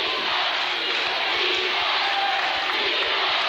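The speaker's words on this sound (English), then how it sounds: "Crowd noise is starting to increase here in Ansonia" Loud, sustained roar of a high school basketball crowd packed into the Ansonia gym during a close conference title game, cheering and yelling in a constant dense wall of noise.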